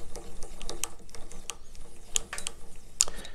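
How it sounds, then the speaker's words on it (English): A string winder turns an acoustic guitar tuning peg, making a faint, quick clicking and ticking rattle with small sharp ticks scattered through, close up and quiet with no talking. "So we use a string winder just to speed up the job."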